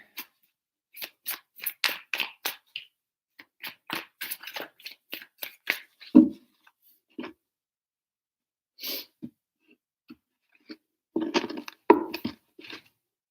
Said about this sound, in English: Three shuffles for Cancer.